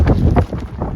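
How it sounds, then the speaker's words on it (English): Wind buffets the microphone in rough, low gusts, rumbling loud and close for about a second. "you have to excuse the wind, it's windy today"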